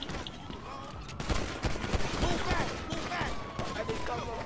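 Heavy gunfire in a tense police shootout with officers under fire, bursts of shots crackling through a dense, noisy mix with overlapping voices.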